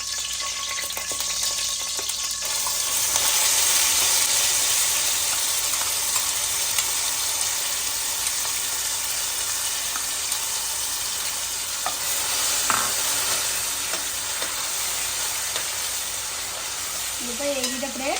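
A paste added to hot oil with green chillies, for an Andhra-style fish curry, fries in a pan with a loud, continuous close sizzle that holds steady throughout, with no voices over it.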